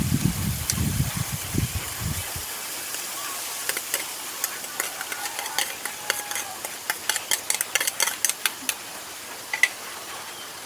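Bamboo shoots (labong) sauté in a pan with a soft steady sizzle while a utensil scrapes and taps against the metal in quick irregular strokes, preceded by a brief low rumble at the start.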